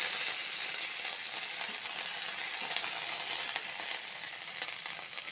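Curry leaves and green chillies sizzle in hot oil with black mustard seeds, a steady bright crackling hiss with small pops, close and continuous, no talking.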